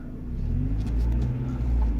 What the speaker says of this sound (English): I'll take the parking brake off, put the car in first gear